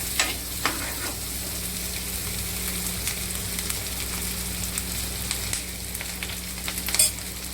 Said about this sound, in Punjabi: ਹੁਣ ਮਿਰਚਾਂ ਪਾ ਦਿੰਨੇ ਆ ਹੁਣ ਇਹਨਾਂ ਨੂੰ ਭੁੰਨ ਲਾਂਗੇ ਚੰਗੀ ਤਰ੍ਹਾਂ ਮਿਕਸ ਕਰ ਦਾਂਗੇ